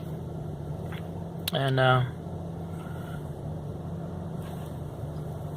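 A car engine idles with a steady low hum throughout, a brief louder burst of a voice cutting in midway over the constant drone.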